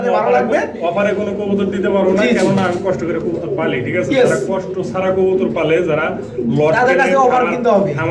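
Pigeons coo softly in the background beneath continuous close-up talking.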